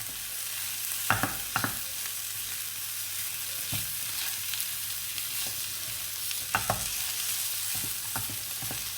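Potato sandwich filling with green chili and coriander being stirred in a pan, steady frying sizzle with several sharp spoon scrapes and knocks, close and clear, no talking.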